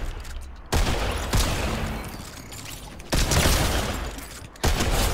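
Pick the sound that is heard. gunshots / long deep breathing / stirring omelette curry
gunshots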